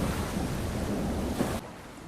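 Stormy ocean in the Stranded Deep survival game, a dense roaring wash of wind, rain and surging waves that suddenly drops off toward the end, with no voices.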